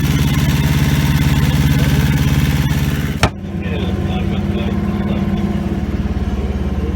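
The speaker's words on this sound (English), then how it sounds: "So, in order to get back at a reasonable time, we had to motor." An inboard motor pushes a sailboat across a calm lake with the mainsail still raised, giving a loud, steady, throbbing drone. A single sharp knock interrupts it partway through, and the engine keeps chugging evenly afterward.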